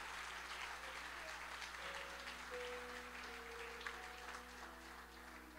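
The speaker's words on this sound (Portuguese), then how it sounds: "Eu gostaria que você aplaudisse agora, glorificasse." A church congregation claps in praise during a worship service, a sustained even patter of many hands under a soft steady hum and faint held tones, continuous and moderately loud throughout.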